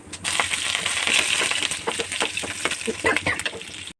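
Green chillies hitting a hot pan of popping mustard seeds, a busy crackling sizzle with scattered sharp pops and stirring clatter throughout, close and fairly loud.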